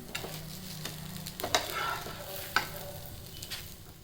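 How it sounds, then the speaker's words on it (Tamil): Dosa batter on a hot pan gives a soft, close sizzle with a few sharp scraping taps from a utensil over about four seconds. "அடுத்த தோசை நான் ஊற்றி காமிச்சிடுறேன்."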